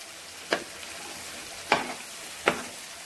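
Spiced masala for Punjabi chicken curry fries steadily in oil, a soft continuous sizzle broken by three sharp scraping stirs spaced about a second apart, close and alone with no talking.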